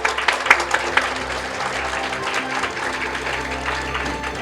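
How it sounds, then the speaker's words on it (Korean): Audience applause at a Rare Disease Day anniversary ceremony as three award recipients are called forward, a steady wash of clapping with a few sharper claps early on, fairly close and continuous throughout. "큰 박수 부탁드리겠습니다."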